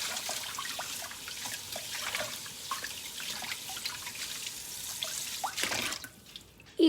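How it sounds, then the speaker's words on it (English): A tap runs over a greasy tray being rinsed, giving a close, steady splashing wash with irregular drips and trickles that stops abruptly near the end. "Let me rinse it."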